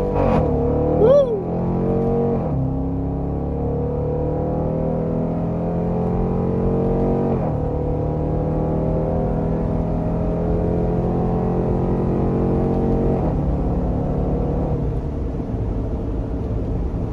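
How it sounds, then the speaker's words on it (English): A Dodge Durango R/T HEMI V8 SUV accelerates hard under paddle-shifted gears, its loud, close engine note climbing steadily and dropping sharply at each of about three upshifts, with a brief shout near the start. "You can also switch the gear shifter to manual and shift with the paddle shifters."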